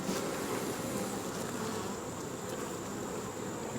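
Honeybees drone in a steady, dense buzz as a hive is opened for inspection, close and continuous throughout with no other sounds over it.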